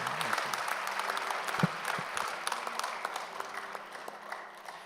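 A church congregation applauds at a deacon and elder ordination service, a steady wash of moderate clapping from the crowd that holds for several seconds, with faint voices underneath.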